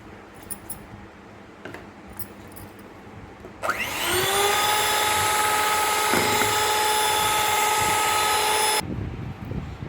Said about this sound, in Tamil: இதுக்கப்புறம் ஆயில் சேர்த்து கொஞ்ச நேரம் பீட் பண்ணி எடுத்துக்கலாம்